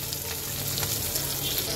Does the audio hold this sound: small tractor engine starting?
no